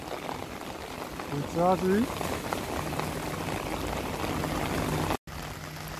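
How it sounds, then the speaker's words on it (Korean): Heavy rain pours down steadily in a quiet seaside village street, a dense close hiss that fills the whole scene while someone briefly speaks over it. "오, 비가 세지기 시작합니다, 이거"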